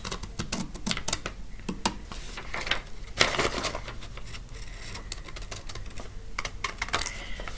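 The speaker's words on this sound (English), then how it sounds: "I'm going to cut out on the dotted lines in between Cardy's beaks." Scissors snipping paper along dotted lines for a kite cutout: a quick run of sharp, close crisp clicks and slices in irregular bursts, with no talking.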